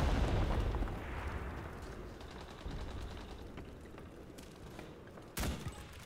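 Bombs going off in the WWII shooter Enlisted: a heavy, rolling explosion rumble that decays over several seconds, followed by scattered distant blasts and a sharp loud burst near the end.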